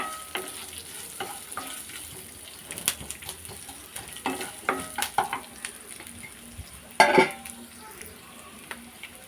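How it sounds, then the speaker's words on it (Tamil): Coconut, green chili and onion sautéing in a pan for a chutney, with soft intermittent scraping and stirring over a faint low sizzle, one louder clatter near the end; no talking. "தேங்காயும் சேர்த்து நல்லா வதக்கிக்கோங்க நம்ம சேர்த்த இன்க்ரீடியன்ட் எல்லாமே நல்லா வதங்கணும்"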